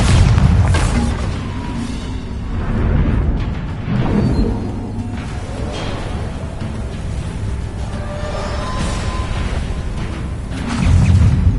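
Bombarda blasting spells exploding in Hogwarts Legacy, a series of deep booms and rumbling bursts with whooshing swells, loud and close, with no voices.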